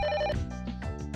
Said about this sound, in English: The telephone!